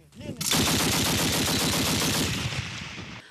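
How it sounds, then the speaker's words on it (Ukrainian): Automatic grenade launcher capable of piercing armor being test-fired, a loud rapid string of evenly spaced shots lasting about two seconds, then cutting off abruptly. "Один з автоматичних гранатометів, який пробиває будь-яку броню, випробував волонтер"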